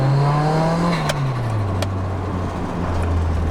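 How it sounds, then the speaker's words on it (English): A Nissan 180SX Sileighty runs with its opened-up SR20 red top engine from the S13 series, a loud, close low drone that eases down in pitch and settles into a steady rumble, with no talking. "you can definitely hear that engine is opened up quite a bit. It is an SR20."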